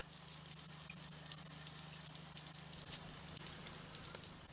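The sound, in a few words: cold mains water spraying from Mira Advance ATL shower head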